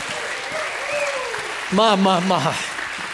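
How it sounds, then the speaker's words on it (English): A church congregation claps in praise, a soft steady patter under a voice that speaks briefly over the middle of the sound. "Somebody give him a hand clap and a shout of praise."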